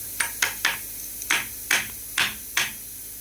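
Sharp metallic hammer strikes ring out as a pin is driven out of an air rifle, seven blows in an uneven rhythm, close and fairly loud with brief ringing after each.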